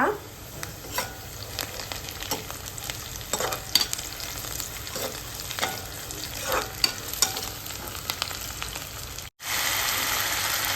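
Onions fry in a pan with green chillies and whole spices for gongura chicken, a steady close crackle with bursts of spattering and stirring, then a brief cut before the sizzle resumes louder.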